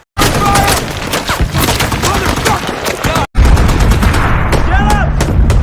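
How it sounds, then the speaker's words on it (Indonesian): Dense, loud gunfire from a war film set in the valleys of Afghanistan rattles continuously in rapid bursts, with a brief break before more volleys erupt. "Mereka melepaskan beberapa tembakan lalu kemudian pergi begitu saja."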